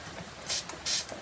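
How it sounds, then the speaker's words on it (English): MAC Prep and Prime Fix Plus setting spray misted onto a flat makeup brush: two close, loud hissing bursts from a pump bottle, each about a third of a second, with a quieter puff between them. "get my MAC Prep and Prime Fix Plus spray and spray it on this flat"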